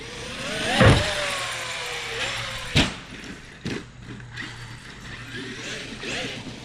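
A radio-controlled car on Pro-Line Badlands M43 tires whines its electric motor, rising and falling with sharp thuds and a clattering landing after a big jump, then quieter rolling, recorded outdoors.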